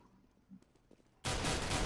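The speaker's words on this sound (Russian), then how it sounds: "Ой, Бенни, стрельба!" Gunfire erupts in a competitive Counter-Strike-style esports match: after near silence with faint clicks, a sudden loud, dense burst of shots fills the rest of the moment.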